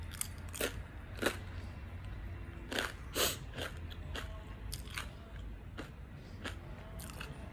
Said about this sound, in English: That crunch is awesome.